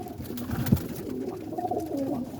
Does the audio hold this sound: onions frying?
no